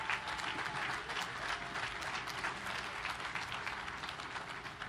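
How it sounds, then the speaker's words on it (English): Audience applauding at a Navy ship commissioning ceremony for a destroyer, steady dense clapping from a large crowd sustained throughout, moderately distant and even in level. "So big round of applause to Jack"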